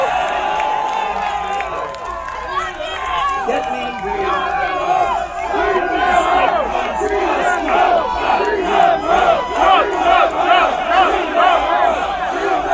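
A large rally crowd in the Bronx, New York cheers and chants loudly, a roaring, rhythmic wall of many voices that swells into repeated pulsing shouts, with some clapping mixed in.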